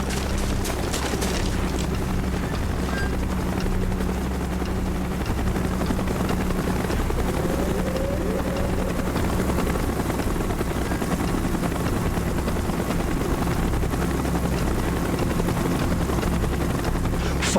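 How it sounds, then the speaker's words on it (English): Helicopter approaching in the Call of Duty Black Ops game, a steady loud rotor drone with low engine rumble that holds throughout, set among scattered battle noise. "Chopper's inbound! Move it!"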